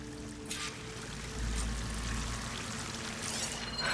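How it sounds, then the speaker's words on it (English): Steady rushing water from a waterfall in the video game Horizon Forbidden West, a continuous broadband pour that swells slightly louder midway and stays constant with no talk. "That waterfall must be coming from somewhere."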